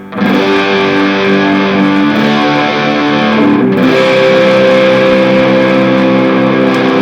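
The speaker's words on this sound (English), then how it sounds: "let's hear a high gain sound. Just for fun, I'll do the neck." A loud, sustained high-gain distorted G&L Fullerton Deluxe Legacy HB electric guitar on the neck pickup, thick and warm, with some hum, ringing out held chords with a brief change in the middle.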